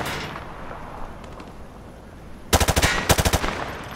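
Automatic gunfire rattles across a shooting range in Call of Duty Modern Warfare 2, a quiet stretch of ambience broken by a loud rapid burst of about ten evenly spaced shots near the end.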